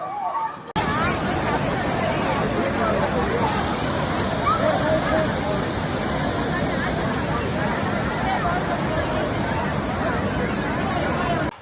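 Crowded Thirumoorthy waterfall in the Anamalai forest, with a constant broad roar of falling water mixed with dense crowd babble, steady and loud throughout.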